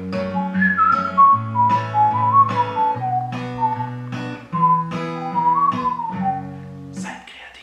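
Someone whistles the melody of a song over strummed guitar chords, the tune stepping up and down at a relaxed pace.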